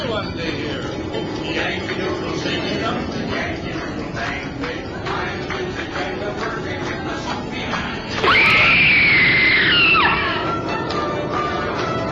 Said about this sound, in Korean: 조명이 꺼지자 분명 어떤 여성의 끔찍한 비명소리가 들립니다.